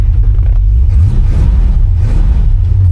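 Engine of a car with a newly installed carburetor, revving hard, loud and close, a deep continuous rumble that rises and falls with the throttle, and no talk.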